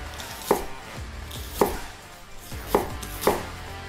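A knife slicing an onion into julienne strips on a board: four crisp, evenly spaced chops, close and clear, with no talk.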